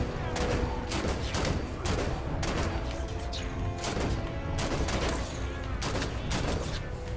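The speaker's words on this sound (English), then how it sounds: "Would you stop shooting at me, please?" Rapid bursts of gunfire from the video game Halo 5 Guardians crackle in repeated volleys, loud and close, with brief pauses between bursts.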